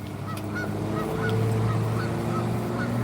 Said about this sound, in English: Y'all hear them geese, man?